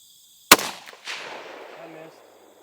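A single sharp rifle shot fired at a ten-pound Tannerite explosive target cracks out close and loud, then rolls away in a long fading echo.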